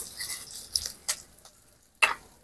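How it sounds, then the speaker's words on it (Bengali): Spice paste of ground ginger, cumin, green chilli and turmeric frying in a pan for a banana stem dish gives a soft, close sizzle, broken by a few sharp stirring clicks and scrapes, with no one talking. "মশলা খুব ভালো করে কষিয়ে নেব।"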